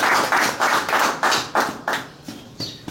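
Rhythmic clapping from an audience at a Haitian cinema seminar event, about a dozen steady hand claps in an even pulse, fairly close and loud with no talking.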